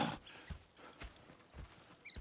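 Horse hooves clip-clop in a steady rhythm across a Wild West town in the video game Red Dead Redemption 2, each footfall a soft, fairly close thud with faint ambient sounds between the steps.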